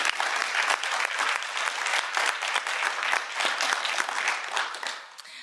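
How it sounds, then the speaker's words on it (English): A student awards night audience claps steadily in a hall, a dense, sustained round of applause that keeps up throughout and tapers off slightly at the end. "please give a round of applause for Alessandra Scales."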